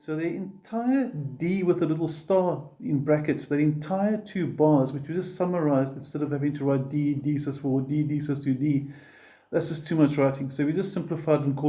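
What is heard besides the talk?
No everyday noises stand out.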